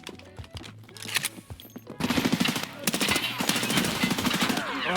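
Suppressed AS VAL rifle firing short bursts in Escape from Tarkov, the rifle jamming between them; rapid clattering shots come in clusters, quieter at first, then a denser, louder run of fire with mechanical clicks.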